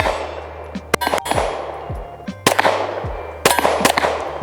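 Canik Rival pistol fired at steel plates 25 yards away: sharp gunshots, mostly in quick pairs, each followed by a ringing metallic clang of the hit plate, loud and close with no talking.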